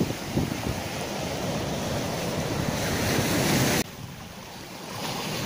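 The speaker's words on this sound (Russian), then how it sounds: "волна идет. Вот она. Одна за другой." Winter sea waves roll and break on the shore in a steady rushing wash, with wind buffeting the microphone and no voices.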